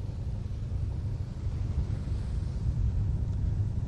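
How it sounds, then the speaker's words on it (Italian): Steady wind roars across the microphone on a boat speeding along the Gargano coast during a swim race, a constant dense rushing noise with heavy low rumble and no pauses. "Con il vento che ci accarezza piacevolmente"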